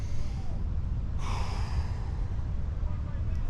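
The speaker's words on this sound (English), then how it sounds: "Taking your deep breath." One deep breath drawn in sharply, a brief airy inhale lasting about a second and standing out over a low, rumbling background.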